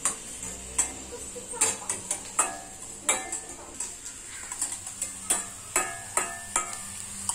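Vegetables for Maggi noodles are stirred in a frying pan: sharp spoon-against-pan scrapes and clinks come in a quick, uneven rhythm, close and clear over a faint sizzle.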